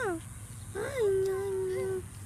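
A puppy gives a brief whimper, then a longer, steady whining cry lasting about a second, close and clear against quiet background.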